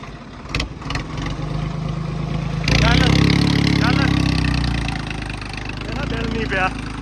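A tractor engine runs steadily while reversing, rising to a louder rumbling drone as it moves, with people talking over it.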